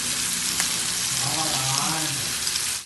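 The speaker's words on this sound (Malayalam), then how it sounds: "ഞാൻ മീൻ വറുക്കാൻ വെച്ചിട്ടുണ്ട്." Small anchovies frying in hot oil give a close, dense, steady sizzle with crackling bubbles throughout, faint voices in the background.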